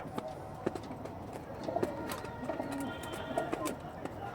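Pigeons coo softly at a bird sale amid a busy background murmur, with low repeated coos and scattered flutters and clicks nearby, and faint voices talking.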